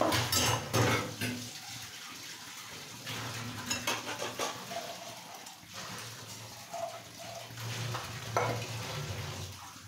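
Shrimp, egg and cabbage pakoras sizzle in hot oil while a utensil clinks against the pan, with scraping and a few flips amid the steady frying.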